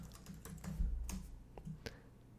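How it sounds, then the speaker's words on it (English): Quick taps on a computer keyboard as a search term is entered into an online shopping site, a short irregular run of light clicks, fairly faint and close, with a low background hum and no talking. "Let's just type in something like ceiling fans."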